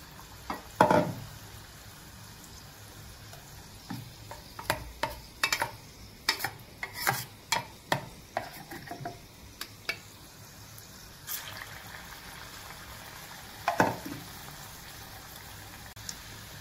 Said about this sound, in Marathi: हे आपण गोल्डन ब्राऊन होईपर्यंत तळूया.